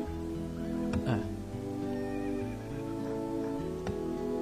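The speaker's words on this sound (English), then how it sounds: "I hear jingle bells and horses." Horses neigh and whinny in a snowy video game landscape, a few calls rising over steady layered music and ambience.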